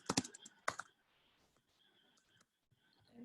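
Quiet keyboard typing while entering Python code: a few brisk bursts of key clicks at the start, then sparse faint taps, with no talking.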